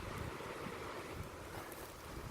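Steady gusty wind blowing outdoors during a knife-chopping session, a constant broadband rush buffeting the microphone for the whole stretch with no voices.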